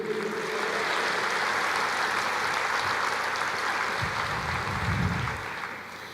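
A church congregation applauds during a sermon, a loud, dense and sustained roar of clapping that fills the room before easing off near the end.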